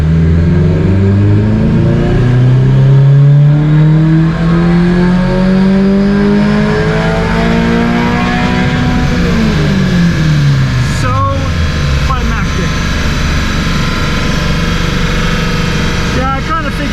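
A Gen2 Subaru BRZ with FA24 engine, fitted with JDL headers, intake and AFE catback, revs loudly on a dyno in a rising pull for about nine seconds, then the engine note falls away as it winds down, with clicks near the end.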